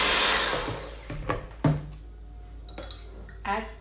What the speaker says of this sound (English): but first I'm gonna beat the egg